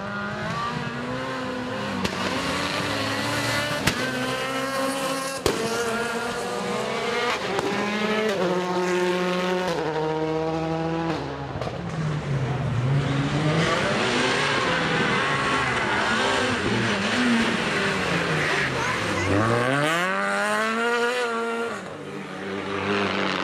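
Skoda Fabia rally cars racing at a rally sprint in Varna, engines revving and changing gear as they pass, rising and falling whines, moderately loud and at a distance with no talk.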